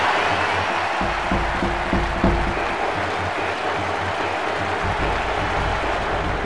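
Stadium crowd noise from the Nintendo 64 game International Superstar Soccer 98 after a volleyed goal, a steady loud wash of cheering and applause that holds without a break.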